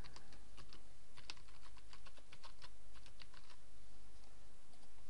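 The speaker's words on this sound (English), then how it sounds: "so I just type that in now." Rapid keystrokes on a computer keyboard, a close run of light clicking taps with brief pauses, heard alone over a faint steady room hum.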